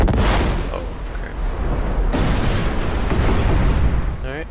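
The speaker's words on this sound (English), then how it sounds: "Alright, I've added more explosions." Explosions in the video game Destiny: The Taken King, a loud barrage of booms and rumbling blasts with heavy impacts and crackling debris that continue back to back.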